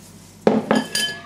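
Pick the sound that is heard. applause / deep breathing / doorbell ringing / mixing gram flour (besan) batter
mixing gram flour (besan) batter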